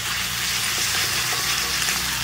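Onion, garlic and ginger frying in hot oil for a stingray curry, a loud close hissing sizzle with faint stirring scrapes, continuous and unbroken, no talk.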